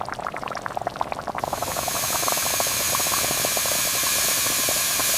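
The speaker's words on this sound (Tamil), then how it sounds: "பூ நல்லா மெதுவா வேகிற வரைக்கும் கொதிக்க விடுங்க." Banana flower simmering with turmeric in a pot, giving a steady bubbling and hissing boil that grows fuller and denser partway through, close and continuous with no talking.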